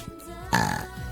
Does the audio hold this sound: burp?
yes